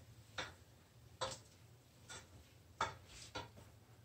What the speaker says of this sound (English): I'm just going to mix.